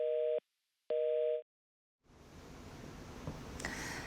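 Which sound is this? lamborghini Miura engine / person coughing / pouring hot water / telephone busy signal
telephone busy signal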